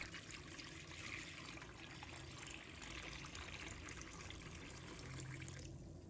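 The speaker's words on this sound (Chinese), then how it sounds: "把它放入盆中， 倒入清水" Clean water pours steadily into a bowl holding a halved onion, a soft continuous trickling splash that stops just before the end, heard faintly and alone.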